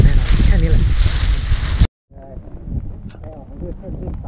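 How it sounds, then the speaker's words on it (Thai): Gusty wind roars against the microphone on a rainy, misty mountain trail at Phu Soi Dao, loud and close for nearly two seconds before cutting off abruptly, then continuing more softly with faint voices underneath. "โอ้เสียงลม"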